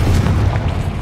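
A blasting spell explodes in the fantasy game Hogwarts Legacy, a loud sustained low boom lasting about a second with a rumbling, noisy body and no talk over it.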